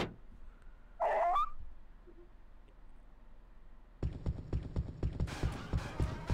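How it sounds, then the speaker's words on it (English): Loud, heavy footsteps in the horror video game Haunting Ground, a steady run of hard clacking steps that start partway through after a brief vocal sound, close and rhythmic. "Why are your footsteps so loud"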